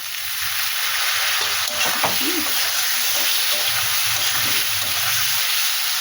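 Tomatoes and turmeric powder frying in a pan for a Bengali koi fish curry with cauliflower and potato, giving a steady close sizzle with occasional stirring scrapes and no talk.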